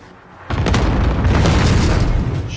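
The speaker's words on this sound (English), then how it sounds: "Enemy cluster strike." Loud cluster strike explosions in Call of Duty Warzone Rebirth, a sudden burst after a quiet moment swelling into a dense, continuous barrage of booms and rumbling blasts that carries on for over two seconds.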